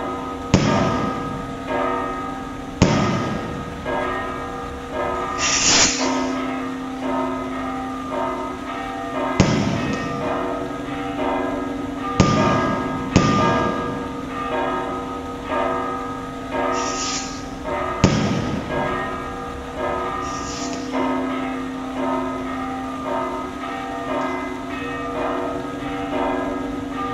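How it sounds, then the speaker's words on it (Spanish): Festival rockets exploding during a Romería de la Virgen de Guadalupe, a series of sharp booming bangs spaced several seconds apart, each ringing out and decaying over a steady background. "escuchemos los cohetes del tiempo."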